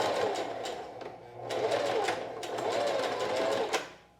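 A sewing machine runs steadily, stitching two pieces of elastic together backwards and forwards, with a continuous close whir that rises and eases between passes.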